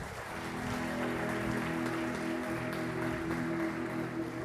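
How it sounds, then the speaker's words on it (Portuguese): A church congregation applauding during a sermon, a dense sustained clapping from a large group with a steady low hum and tonal background running underneath throughout. "Você pode aplaudir a esse Deus?"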